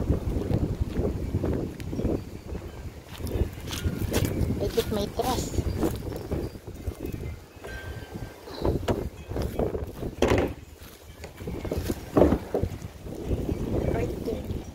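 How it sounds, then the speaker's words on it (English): Strong wind rumbles and buffets the microphone in uneven gusts, with scattered speech and exclamations breaking through. "So very windy guy."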